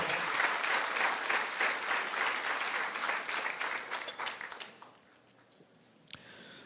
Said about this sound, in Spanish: ¿Cuánto den fuerte aplauso al Señor Todopoderoso?